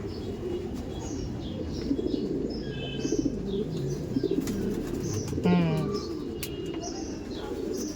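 Racing pigeons at a Kolkata racer farm coo in repeated soft, rolling calls, with scattered chirps and a brief flutter of wings nearby, and a voice speaking now and then.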